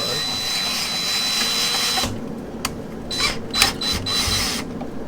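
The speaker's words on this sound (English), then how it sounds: "I don't do a lot of drilling through countertop-y stuff. Alright, that seems to be going through." Power drill boring through a countertop on a boat, a loud continuous grinding whine for the first two seconds, then quieter stop-start bursts of drilling with brief pauses, close up.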